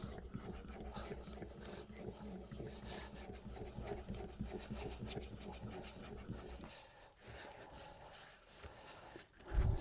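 A hand plane blade rubbed back and forth on a sharpening stone, giving a rhythmic rasping scrape in steady strokes, close and fairly quiet, pausing briefly near the end.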